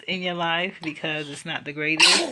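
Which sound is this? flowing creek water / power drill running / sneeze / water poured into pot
sneeze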